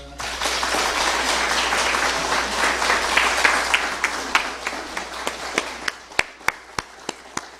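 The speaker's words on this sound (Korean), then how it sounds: "박수하겠습니다." A church congregation claps during a Sunday worship service, a dense burst of applause that thins out into a few separate, spaced claps at the end.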